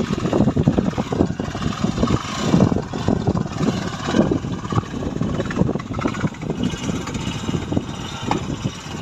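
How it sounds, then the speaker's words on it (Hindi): A motorcycle engine starts and settles into a steady, rumbling idle close by, running continuously with an uneven low throb, while a balloon is set near the exhaust and silencer to catch the hot air. "सबसे पहले करते हैं बाइक को स्टार्ट"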